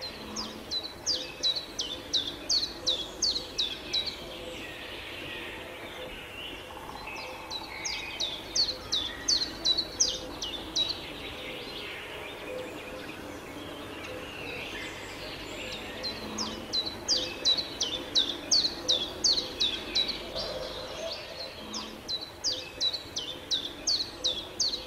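A male common chiffchaff sings from the top of a large tree, loud, evenly repeated two-note chirps in long runs, pausing briefly between bursts, clear and fairly close.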